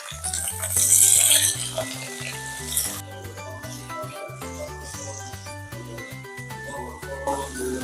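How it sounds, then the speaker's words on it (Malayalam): Chicken pieces hit hot oil in a pan and sizzle loudly at first, then the frying settles into a softer crackle beneath background music and a voice. "അപ്പോൾ നമ്മളെ എണ്ണ ചൂടായിട്ടുണ്ട്. അതിലേക്ക് നമുക്ക്"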